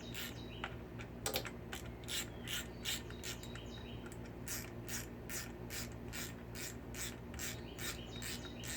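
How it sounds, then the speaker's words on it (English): A ratchet clicks in rapid regular strokes while tightening the clutch cover bolts of a Honda Shadow motorcycle in a star pattern, faint and close, with no talking. "You're gonna have to do that star pattern as you're tightening it."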